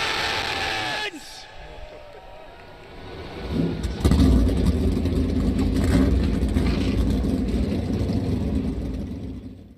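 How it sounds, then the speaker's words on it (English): Race car engines fire up together at the start of a Daytona stock car event: a brief broadband roar before a dip, then a sustained, loud mixed engine rumble building from about four seconds and holding steady to the end. "Cars fired up"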